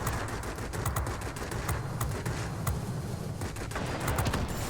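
Yak-15 jet machine guns rattling in World of Warplanes, dense continuous rapid-fire bursts over a loud engine roar, strafing ground targets.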